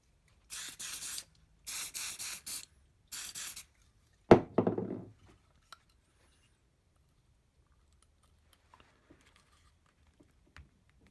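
CA glue activator sprays onto wood during a chair restoration: three short, loud hissing bursts in a steady rhythm, then a sharper knock and brief rustle, followed by near silence with faint small ticks.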